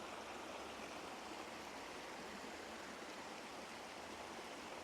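Creek water flows steadily along a hiking trail near Duluth, Minnesota, a continuous close rushing and babbling hiss with no pauses and no voices.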